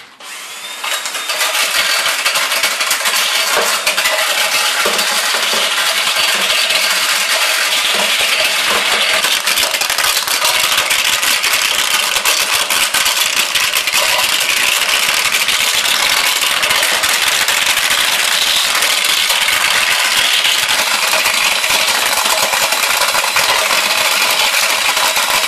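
A homemade nut-cracking machine driven by a cordless drill cracks walnuts, pecans and Brazil nuts, giving a loud continuous rattling, clattering grind of shells tumbling through the mechanism over a whirring drill motor, with no voices.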